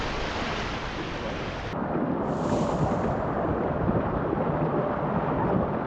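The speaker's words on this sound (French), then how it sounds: "c'est du vent quoi" Strong wind at sea near Cordouan roars against the microphone as a heavy, continuous broadband rush with gusty buffeting and no clear pauses.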